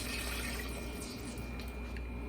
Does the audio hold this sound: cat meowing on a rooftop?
no